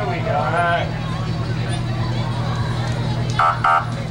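A loud fire truck siren wails and warbles continuously at a St. Patrick's Day parade, with a couple of short horn blasts near the end and a constant low engine rumble underneath.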